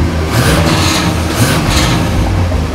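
An LS-swapped 4x4 short bus idles with a rough, throbbing engine rumble, close and loud, its note wavering slightly as it runs on its own.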